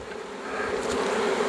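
A swarm of honey bees buzzes steadily and densely close by at a hive box, a continuous droning hum that holds loud throughout with no talk.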